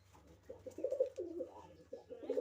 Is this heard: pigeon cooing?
yes